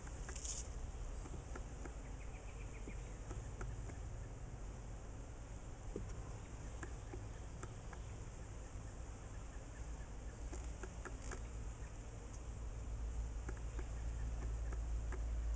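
Honey bees buzz steadily at a busy hive with a newly added brood chamber, a continuous close droning hum with faint scattered ticks, no talk over it.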